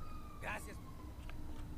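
A police siren wails in the GTA V video game, a fairly faint wavering tone heard under steady game background noise while a voice speaks briefly over it.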